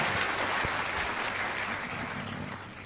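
Audience applause for a couple being introduced at a talk event, a steady wash of clapping that holds fairly level and fades slightly toward the end, with no voices over it.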